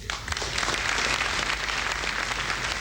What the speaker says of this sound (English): Mr. Gorbachev applauded